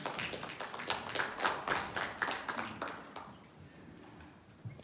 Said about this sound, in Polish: Jest Michał, brawa, bardzo poproszę.